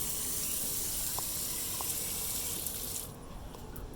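Water runs steadily from an outdoor tap used for rinsing off, a continuous close hiss and splash that eases slightly toward the end.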